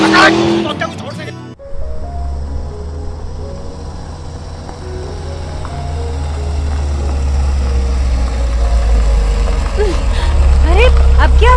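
An overheating car engine runs in a village setting, a steady low idling rumble that builds slightly louder over several seconds. Voices are heard briefly at the start and faintly over it.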